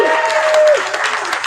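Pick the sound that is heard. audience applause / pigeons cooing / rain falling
audience applause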